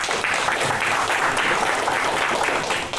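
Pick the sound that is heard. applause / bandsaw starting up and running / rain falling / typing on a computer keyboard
applause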